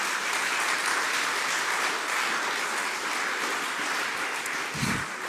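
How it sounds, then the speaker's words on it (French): Steady, dense applause from an audience at a French young entrepreneurs' community event, filling the whole stretch at an even level with no talk over it. "N'hésitez pas à les applaudir"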